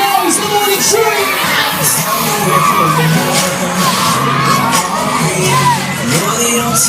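Riders on the Air Raid fairground ride at a Newcastle fair yell and whoop together in a loud, sustained chorus, with an amplified voice and ride noise mixed into the crowd noise.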